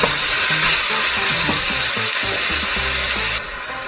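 Ground beef with salt and minced garlic sizzles in a pan for a lasagna filling, a loud, steady frying hiss with a music bed underneath that drops slightly near the end.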